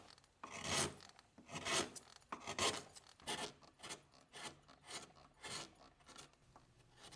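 Hand chisel carving a wooden chair handle, a series of rhythmic rasping scrapes in repeated strokes, close and fairly loud with short pauses between cuts.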